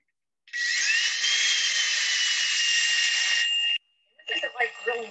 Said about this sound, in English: It fills up the drill bit because it's wet, it's alive.